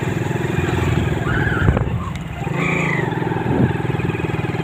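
Motorcycle engine droning steadily while riding over a bumpy hill road, with rattles, clunks and brief pitch swings as the bike bounces, loud and close with no talking.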